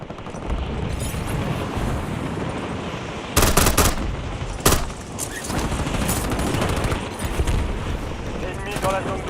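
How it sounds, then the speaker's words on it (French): Call of Duty gunfire: rapid automatic bursts and single shots mixed with game effects, with sharp loud bursts in the middle section. A voice speaks in French over the gunfire. "J'essuie des tirs."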